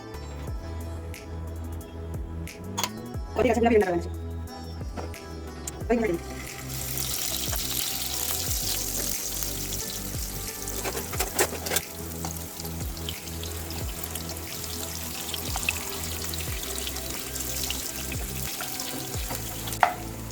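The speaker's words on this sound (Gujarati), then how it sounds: "હવે આપણે એક વાસણ લઈ અને એમાં તેલ મૂકી પનીર તળી લઈશું" Paneer frying in oil in a pot: sporadic clatter and bubbling at first, then a broad, steady sizzle from about seven seconds onward that continues fairly loud to the end.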